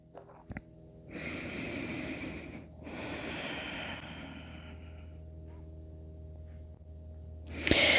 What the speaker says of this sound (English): long, slow exhale